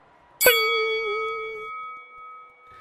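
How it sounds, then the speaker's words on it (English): One bright bell strike rings out with a clear metallic tone, then hums and slowly fades in an otherwise quiet space. "the crowd hushes as we hear a bell"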